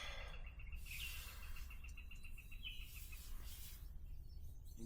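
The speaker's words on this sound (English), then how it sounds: "Birds are out there birding," Birds chirping outdoors in the morning beside a front-yard campsite, a repeated quick series of bright high calls that stops and starts, moderately near over a quiet background hum.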